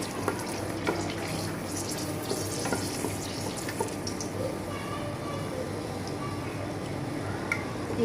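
Four whole dried red chillies fry in hot oil for a Bengali amra pickle, giving a steady, dense crackling sizzle that runs unbroken throughout, close and fairly loud, with faint kitchen clatter and no talking.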